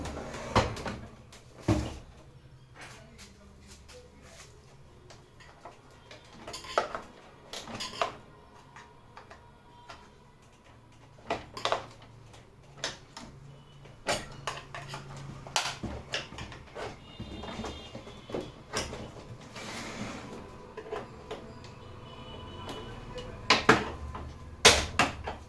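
The stuck right side panel of an HP LaserJet Pro M126a laser printer is worked open during disassembly, giving scattered plastic clicks, snaps and knocks, close and sharp, separated by quiet stretches.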